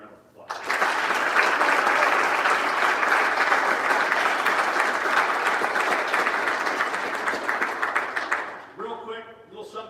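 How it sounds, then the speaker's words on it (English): An audience at a high school football signing day gives a big round of applause, dense sustained clapping that fills the room for about eight seconds before fading into talk. "How about a big round of applause?"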